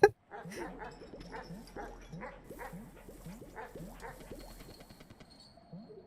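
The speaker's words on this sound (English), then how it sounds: "So there's a doggy up here." Dog in the Animal Well video game barking in a quick run of about a dozen short, sharp yips at a steady, rhythmic pace, close and clear over a quiet low hum.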